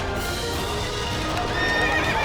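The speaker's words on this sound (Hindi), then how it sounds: "हुकुम, अश्व बिफर गया है।" An agitated horse whinnies and neighs loudly up close, with hooves clip-clopping and stamping beneath, in a period Rajput drama setting.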